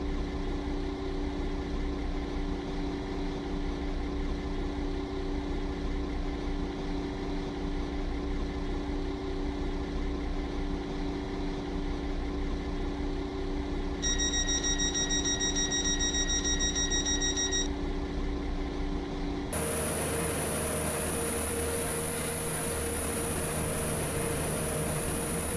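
A WaterLine train runs in a video game, producing a steady mechanical drone with a constant tonal hum and a brief high chime partway through. The sound then shifts to a brighter, hissing running noise, with no voices.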